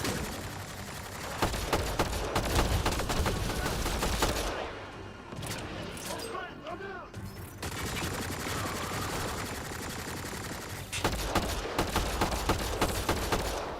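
Sustained rifle fire in the game Mass Effect Andromeda, heavy continuous bursts with a brief lull midway before the shooting resumes, loud and dense throughout.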